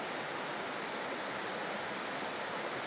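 Water pours steadily down the Mountain Dew cascade at Águas Brancas in Três Coroas, a continuous soft broadband rush heard alone at moderate distance.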